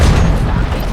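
Gunfire in the shooter game RoboCop: Rogue City, a short burst of booming, crackling shots mixed together, loud and close.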